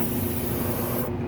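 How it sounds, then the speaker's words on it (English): Airbrush spraying Mr. Color hobby paint for a 1/5-scale Hulk vs. Thor prototype figure, a steady loud hiss of air and paint mist that holds evenly, then cuts off abruptly near the end. "So I'm just going to spray this out real quick."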